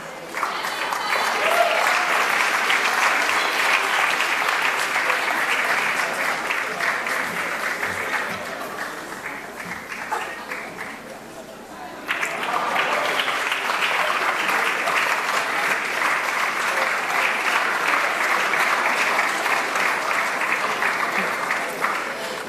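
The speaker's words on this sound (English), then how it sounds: "a round of applause for all our full-time graduates" Long, sustained applause from a large crowd honoring full-time MBA and EMBA graduates at a 2015 RSM graduation ceremony, steady and dense with a brief dip in the middle before swelling back.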